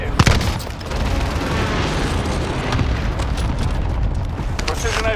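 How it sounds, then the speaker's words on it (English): Precision airstrike explosions in Call of Duty Warzone: an opening boom followed by a sustained, dense rumble of blasts and debris that stays loud throughout, with speech likely mixed in. "Precision airstrike missed."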